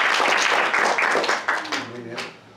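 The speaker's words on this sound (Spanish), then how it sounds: "Aplauso para ella." A small group in a mariachi vocal class applauds a singer: a short burst of close hand clapping that thins and fades, with a voice speaking as it dies away.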